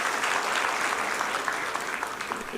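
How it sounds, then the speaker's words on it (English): An audience claps steadily for a key guest, a bank executive, at a community gathering; dense, continuous applause fills the moment at a loud, even level with no voices over it. "We need to clap for our key guest, Dr. James Mwangi of Equity Bank."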